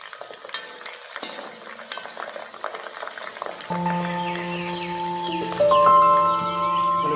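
Garlic frying in hot coconut oil for beef pickle gives a close sizzle with clinks of stirring, then a steady tonal hum joins midway and grows louder.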